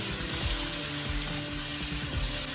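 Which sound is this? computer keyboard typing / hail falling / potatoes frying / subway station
potatoes frying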